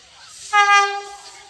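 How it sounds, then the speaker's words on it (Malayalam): A loud train horn sounds for about half a second as a Vande Bharat express arrives, standing out against quiet station ambience. "വന്ദേ ഭാരത് വണ്ടി ഇതാ വരുന്നുണ്ട്"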